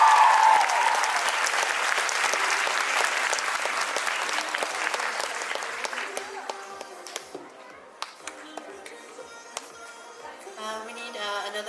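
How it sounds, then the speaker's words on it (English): Audience at a J-popcon 2019 cosplay show loudly applauding the competitors, a dense wash of clapping that thins out into scattered claps and fades, with voices chattering toward the end. "give a big round of applause to our cosplay show competitors"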